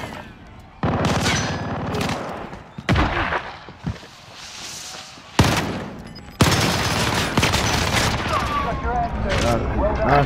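Video game gunfire in loud bursts of rapid shots and single cracks, separated by short pauses and mixed with game effects across the whole stretch.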